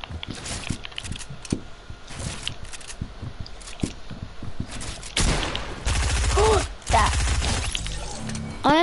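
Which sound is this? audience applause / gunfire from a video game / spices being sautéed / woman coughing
gunfire from a video game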